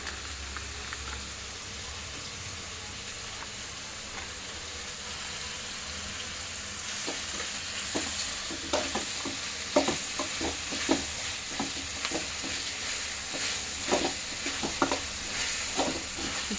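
Ginger garlic paste frying in a pan for chicken fry, a low steady sizzle with scraping stirs that grow busier and louder in the second half, close up and without talk.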